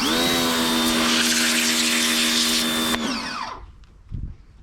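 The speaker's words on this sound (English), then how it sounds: "will the Titan pressure washer cut through this piece of cardboard?" A Titan 100 bar pressure washer fires a pin-nozzle jet at a piece of cardboard, giving a loud steady whining hiss for about three seconds before it cuts off, followed by faint dripping and handling noises.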